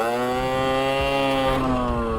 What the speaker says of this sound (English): roll straight forward at a very, very low speed, rev up the engine